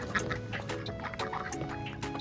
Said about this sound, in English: Here are our ducks.